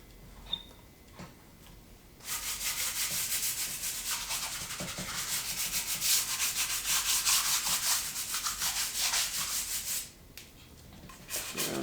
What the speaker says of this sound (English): This is 220 grit paper.